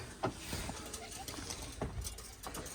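Pigeons coo repeatedly in soft, low bursts against a steady background hiss, with a faint voice briefly audible.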